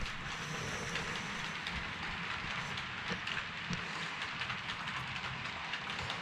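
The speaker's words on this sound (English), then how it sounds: "This will be the last train on the layout for 2004." A model train runs on a model railroad layout with a faint, steady rolling hiss and light clicking of wheels over track joints, continuous and soft at a distance.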